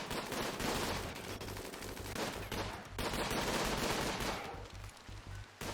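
Automated turrets in RimWorld fire at mechanoids in a dense, continuous rattle of gunfire that keeps up almost without a break, loud and close.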